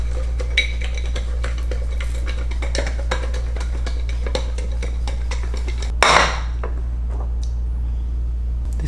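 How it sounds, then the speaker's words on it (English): Food mixture shaken back and forth between two bowls, a steady run of light clinking and rattling contacts for several seconds, then a louder burst of shaking near the end before it settles over a steady low hum. "I'm just gonna do the shaky thing with another bowl"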